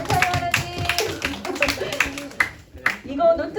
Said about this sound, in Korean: 그 모든 것을 인도하신 하나님 우리 박수 한번 쳐드릴까요?